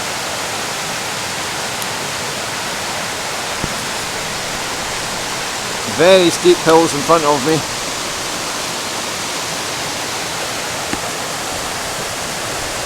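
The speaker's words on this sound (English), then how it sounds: "revealed another little waterfall going right across the full length of the fall" A waterfall and rapids on Benlister Burn give a steady, loud, broadband rush of falling water throughout, while someone speaks briefly over it midway.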